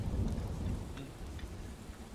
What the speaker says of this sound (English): now the rain has moved in